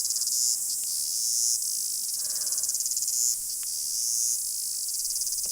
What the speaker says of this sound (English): You can hear all the insects, all the cicadas